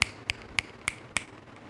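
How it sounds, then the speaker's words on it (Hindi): Five crisp finger snaps ring out at an even, steady pace, each sharp and bright, close and clear against a quiet background. "तो भगवान चुटकी बजाए तो मुंह बंद हो गया"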